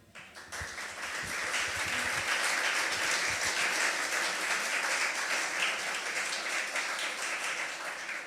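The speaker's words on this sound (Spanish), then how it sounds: "Él se merece un aplauso" Applause from a church audience, rising quickly from a few claps into a loud, steady wash of clapping that holds throughout.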